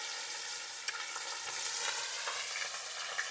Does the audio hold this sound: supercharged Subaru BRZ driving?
no